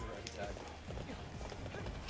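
A horse galloping in the game Hyrule Warriors, its rapid hoofbeats faint and steady under game sound and a talking voice.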